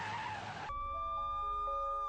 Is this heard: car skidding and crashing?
yes